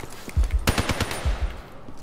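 Call of Duty Mobile AK-74u firing in a video game: a loud, close burst of rapid automatic shots with sharp repeated cracks across two seconds, no talk.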